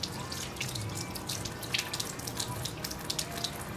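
Preservative fluid drains from a fetal pig dissection pan into a sink, a steady close trickle with scattered drips and splashes at moderate loudness.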